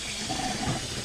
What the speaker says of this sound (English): So I fill that up with water